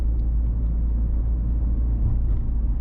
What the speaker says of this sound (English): In lower RPMs the sound is actually less sharp than in higher RPMs